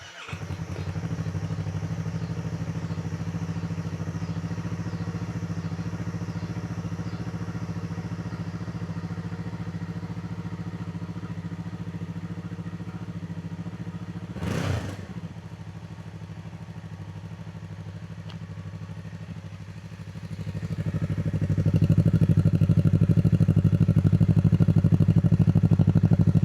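A motorcycle on its stock exhaust idles steadily after a cold start, a low continuous drone close by, with a brief clatter midway and the idle rising louder near the end.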